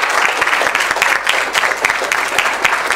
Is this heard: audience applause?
yes